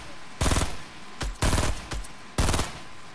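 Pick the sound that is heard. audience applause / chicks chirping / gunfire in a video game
gunfire in a video game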